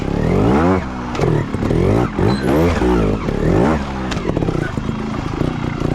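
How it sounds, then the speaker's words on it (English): A trials motorcycle engine revs hard in quick rising and falling bursts as the clutch is popped, loud and close, with clattering from the bike over rough ground. "Now a real quick zap, since my rear tire is going to drop really quick if I don't pop the clutch."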